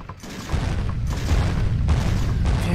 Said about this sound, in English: next section is just firing the cannon